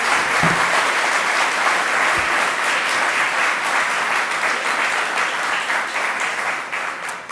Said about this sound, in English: Can I please get some applause for the track partners?